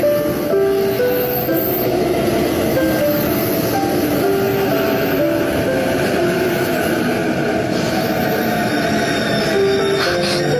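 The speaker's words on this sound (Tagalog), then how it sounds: "The next train is arriving." A train rumbles into a station with continuous heavy rolling noise and scattered high wheel squeals, loud and close throughout, with no voices over it.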